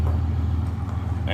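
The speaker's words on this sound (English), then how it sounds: "Luke is bringing the pickup truck in." Low, steady engine rumble of a pickup truck rolling in at a seed processing plant removal site, a constant near drone with a faint voice edging in at the very end.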